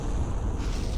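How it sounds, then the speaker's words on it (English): Big explosion in the space combat game Star Trek Online, a dense, low rumbling roar that fills the whole short moment at steady loudness, with no voices. "Whoa, that was a big explosion."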